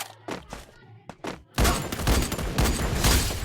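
Gunfire from a sniper-challenge training-ground video game: a few sharp separate shots, then a dense loud burst of rapid firing and impacts lasting to the end.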